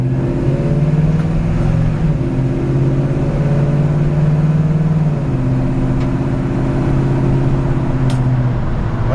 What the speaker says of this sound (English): The transmission just shifts perfectly through all the gears